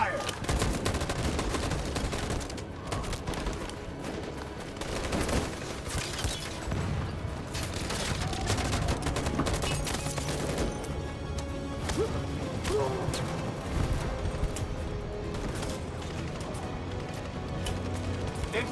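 Gunfire in the video game Detroit: Become Human, dense sustained volleys of shots and crashes with rapid bursts, loud and continuous, with voices shouting over it.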